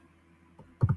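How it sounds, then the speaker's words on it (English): Two quick computer mouse clicks, close and crisp, after a short quiet stretch. "I click on display."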